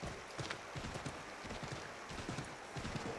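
Horse hooves clip-clop at a steady trotting rhythm in the Assassin's Creed 3 video game, heard up close against a constant rushing, rain-like background wash.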